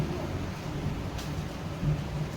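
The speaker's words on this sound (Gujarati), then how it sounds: "વરસાદ પણ સારો થઈ ગયા છે" Steady rain hisses continuously with a low rumbling undertone, like a storm outside, at moderate loudness and without talking.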